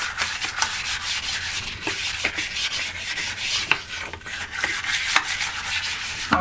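A toilet brush scrubs a toilet bowl during cleaning, giving steady, close bristly rubbing strokes with a few sharper scrapes, heard alone without talk.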